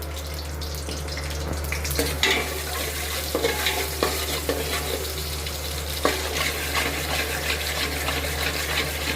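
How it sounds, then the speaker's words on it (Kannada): Onion frying in a pan with masala, a continuous sizzle with frequent stirring scrapes and spoon knocks against the pan over a steady low hum, close by, without voices. "ಉಳ್ಳಾಗಡ್ಡಿ ಸ್ವಲ್ಪ ಚೆನ್ನಾಗಿ ಫ್ರೈ ಆಗಲಿ"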